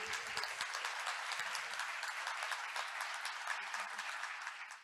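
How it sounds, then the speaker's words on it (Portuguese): Audience at an academic conference honoring a retiring psychology professor breaks into steady, sustained applause, dense clapping filling the whole stretch and tapering slightly at the end. "Palmas para ele."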